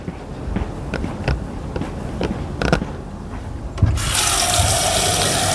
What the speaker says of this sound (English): What I'm going to do right now is just go fill the basin with water